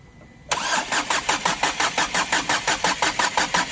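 A Renault Scala diesel engine cranks on its starter motor, a loud sudden onset followed by a steady rhythmic chug of repeated compression pulses, close and without voices.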